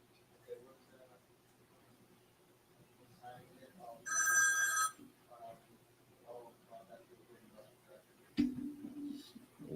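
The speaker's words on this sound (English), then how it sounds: "There goes the phone with this." A telephone bell rings in a busy freight dispatch office, one short burst of ringing near the middle, with people talking quietly around it.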